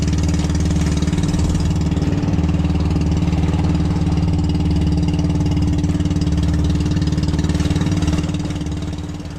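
A boat engine idles steadily at sea off the Philippine Rise in a loud, even, low drone with a rhythmic chug that never breaks, then it fades slightly in the final second.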